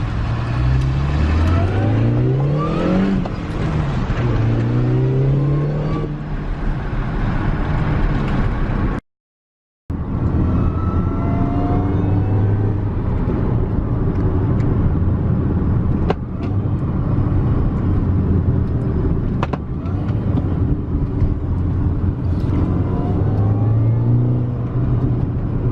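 A Chevrolet Silverado 2500 HD pickup truck with no power steering drives off, its engine rumbling and revving through rising gear changes, loud and close throughout with a brief dropout partway.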